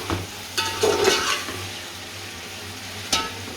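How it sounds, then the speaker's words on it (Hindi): Chicken fries in a pan for biryani, browning toward golden: a steady, soft sizzle runs throughout, broken by a few scraping stirs and clinks. "तब तक हमने फ्राई इसको करना है जब तक इस पे गोल्डन कलर ना हो जाए"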